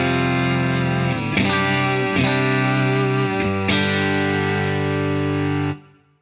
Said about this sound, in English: Go with the compressor pedal in.